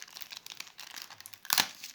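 Close crinkling of a Brawl Stars card pack wrapper being opened, soft scattered rustles building to a sharper crackly tear near the end.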